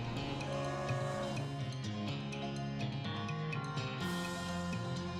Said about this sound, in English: we'll start with a moo